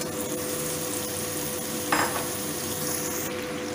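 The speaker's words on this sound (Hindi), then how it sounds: "अब बैंगन को भी थोड़ी सी फ्राई कर लूँगी" Eggplant pieces frying in a pan for dry potato-eggplant fry, a soft steady sizzle at moderate level with one short brighter stir or clink near the middle.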